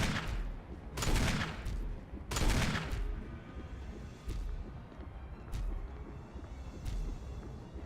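Gunfire in Resident Evil HD Remaster bursts out in several loud, roughly evenly spaced shots over a low, windy game ambience, with fainter reports following.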